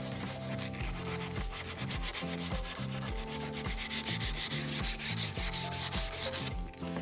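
Sandpaper rubbed by hand back and forth across a plexiglass window, steady rhythmic scratchy strokes repeating about twice per second, close and continuous with no talking.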